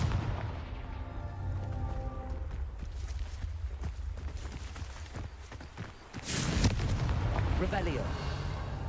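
Confringo fire spell in the video game Hogwarts Legacy, sharp blasts and crackling bursts over game ambience, with a louder burst after a brief lull and a voice speaking under it.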